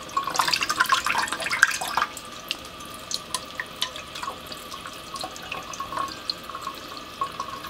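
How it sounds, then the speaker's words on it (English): A live sea urchin's uni is rinsed under a gentle, low-pressure tap: a soft stream of running water for about two seconds, then scattered light drips and trickles, close and quiet. "you just rinse it under very light pressure water"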